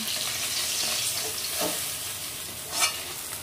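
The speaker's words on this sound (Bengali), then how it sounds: "আর এখন আমি দিয়ে দিচ্ছি জিরে ফোড়ন।" Cumin seeds dropped into hot oil in a wok crackle and hiss in a steady broadband sizzle close by, with a brief louder flare of spitting near the end; no one speaks.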